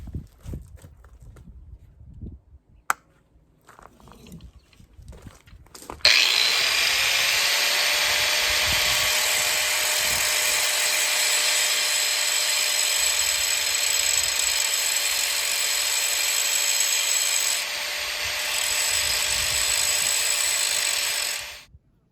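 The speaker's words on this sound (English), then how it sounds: "I'm going to grab the grinder and start working on that weld" An angle grinder working a weld on a Champion Blower and Forge 20-inch camel back drill press. After a few seconds of quiet shop handling noise, it spins up into a loud, sustained high whine that holds steady, dips briefly, then winds down.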